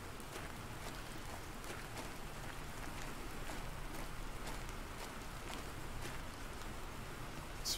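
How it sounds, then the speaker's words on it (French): Steady rain falls in the Planet Crafter video game, a dense, even patter with scattered brighter drop hits that runs continuously at moderate level throughout. "Et la pluie est là."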